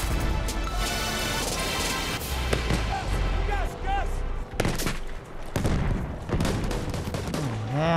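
Battlefield 1 combat fills the mix with rapid, loud gunfire and sharp shots, including sniper fire, under a busy game soundscape while a player talks over it.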